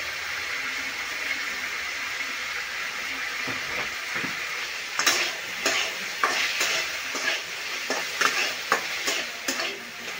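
Potatoes sauté in a pan with a steady sizzle, while a spoon scrapes and stirs them in a run of sharp, repeated clinks and scrapes partway through, close and fairly loud.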